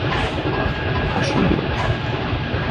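A freight train's tank wagons and closed containers roll in at a Kazakh rail yard, making a loud, continuous close rumble and clatter, while a voice briefly speaks over it.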